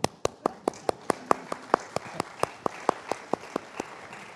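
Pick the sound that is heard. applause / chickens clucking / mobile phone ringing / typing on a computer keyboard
applause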